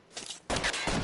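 Gunfire in the video game L.A. Noire, with a couple of sharp bursts of shots crackling close by, the second louder and more sustained.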